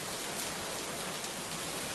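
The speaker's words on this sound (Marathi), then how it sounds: "पडतोय तो मुसळधार पाऊस पडतो आहे" Heavy rain pouring down in Mumbai, a dense, unbroken hiss of water hitting surfaces, steady and loud throughout with no talk.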